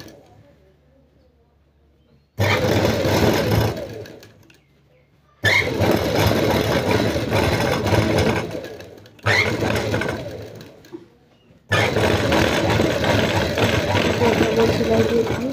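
Sewing machine stitching the round collar of a girl's frock, several loud whirring bursts of a few seconds each, separated by short quiet pauses.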